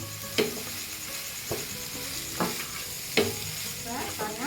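Chicken fried rice being stirred and tossed with masala in a hot pan, steady sizzling throughout with a few sharp scrapes of the spatula against the metal, close and alone.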